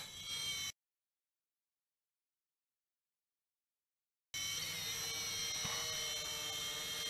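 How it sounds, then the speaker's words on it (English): An SKRC DM96 RC quadcopter's motors hover with a high, steady electric whine; a short burst cuts out for several seconds, then the buzzing returns and holds evenly nearby. "Arming the motors, just go up on the throttle and it'll arm, and then you can take off."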